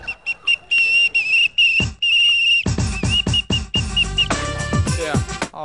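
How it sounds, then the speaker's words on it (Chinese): A shrill whistle plays an Indian snake-charmer-style tune on a Taiwanese variety show, with piercing sustained and rapid wavering notes, loud and close, followed by brighter, busier tones toward the end. "而且还用哨子吹出了印度魔咒"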